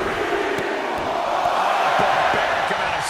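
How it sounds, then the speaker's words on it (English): A dense, continuous roar from an arena crowd in the WWE 2K22 wrestling game, steady and loud throughout, with a commentator's voice running over it. "this crowd is on their feet in full appreciation"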